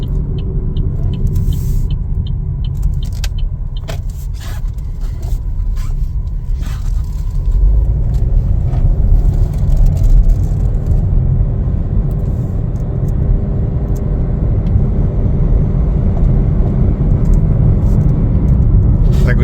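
Interior of a 2021 Chevrolet Trailblazer LS on the move: a steady low road rumble and engine hum that thickens midway, with light rattles and scrapes near the start.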